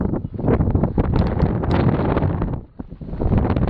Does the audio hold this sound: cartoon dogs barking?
no